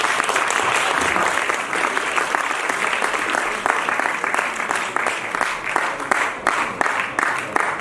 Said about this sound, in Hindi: तालियां कहाँ हैं?